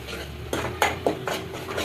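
Pav bhaji spice tempering with chilli, salt and ginger-garlic paste being stirred and sautéed in oil, a spoon clinking and scraping against the pan in irregular knocks over a low background hum, close by.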